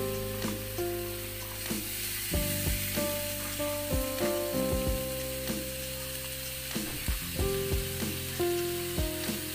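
Tempeh fries in spiced oil for Acehnese mi caluk, giving a steady close sizzle broken by scraping stirs, with tonal background music throughout.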